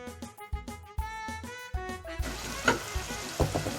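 Chilli powder being stirred into hot oil for Kerala-style lemon pickle: a sputtering fry with rhythmic knocking of a spoon against the pan, then a brighter, hissing sizzle in the last half.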